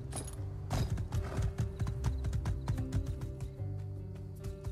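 Rapid clip-clop of horse hooves in the video game My Time at Sandrock, a brisk rhythmic trot close up over soft game ambience, with a brief whinny near the start.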